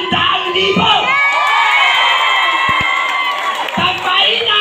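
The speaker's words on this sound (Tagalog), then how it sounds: "Kaya dapat malakas ang palakpak." A large crowd at a lively event in Iloilo cheers and shouts loudly, children's voices among them, in a sustained, dense roar that dips briefly and swells again.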